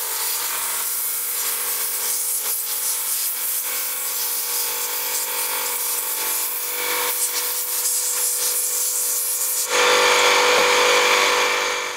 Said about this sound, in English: I'll use my little mini compressor. I hooked up a rubber tip so I can blast stuff out.